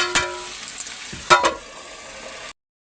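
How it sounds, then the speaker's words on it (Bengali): Potatoes lightly frying with nigella seeds in a pan, a soft continuous sizzle broken by two or three sharp clatters of a spatula, then cutting off abruptly. "আলুটাকে একটু ভেজে নেবো হালকা মতো।"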